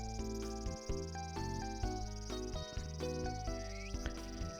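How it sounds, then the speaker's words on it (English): Cicadas drone in a forest, a steady high shrill hum running throughout beneath a louder melodic music track with shifting notes. "We're walking through the forest now, far from all the noise, except for the cicadas."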